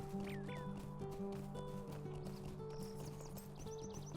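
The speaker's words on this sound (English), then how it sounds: "ride the horse." Hooves clip-clop in a steady rhythm as a horse is ridden in the Lord of the Rings Online video game. They play quietly under a looping musical score with occasional chirping effects, and no talking.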